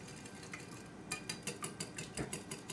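A whisk clinks and taps lightly against a bowl as eggs are beaten for a gluten-free lemon curd tart, a quick steady rhythm of soft metallic strokes, close and fairly quiet.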